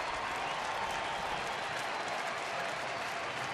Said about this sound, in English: Sellout crowd into it now.